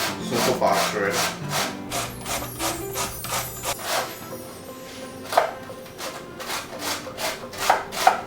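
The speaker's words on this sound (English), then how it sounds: "I'm going to shred the potatoes using a simple box shredder" Potatoes are shredded on a box grater in rapid, rhythmic rasping strokes, each a brief scraping swipe, close and clear, with faint background tones early on.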